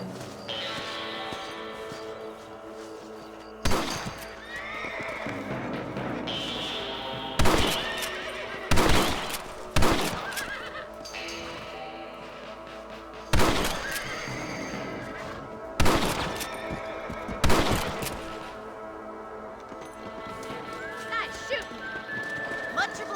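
Horses in the Red Dead Redemption video game whinny and clop along, with several sharp loud bursts and snorts over steady hoof movement, while game characters talk throughout.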